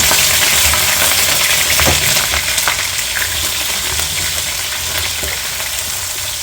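Onions hitting warmed vegetable oil in a pot for mackerel jollof rice, giving a loud, dense, continuous sizzling hiss that eases slightly over several seconds.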